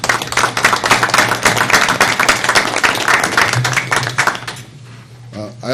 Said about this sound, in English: Please, a big round of applause for everybody who worked on all these projects this year